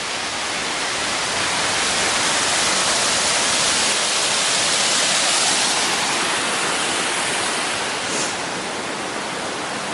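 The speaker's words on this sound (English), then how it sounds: "The other side, another waterfall I'm guessing off the ledge there." Waterfall off a ledge along the Pacific Crest Trail, a loud, steady, broadband roar of falling water filling the whole clip without a break.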